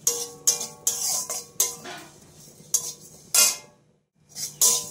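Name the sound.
cumin seeds frying and stirred in a pan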